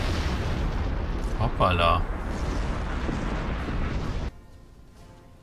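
A drone explodes in the space video game Star Trek Online with a dense, roaring rumble that holds for about four seconds and then cuts off abruptly, while a person makes a short exclamation.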